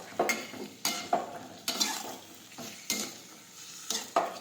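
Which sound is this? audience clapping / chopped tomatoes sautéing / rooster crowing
chopped tomatoes sautéing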